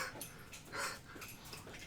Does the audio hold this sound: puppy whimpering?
yes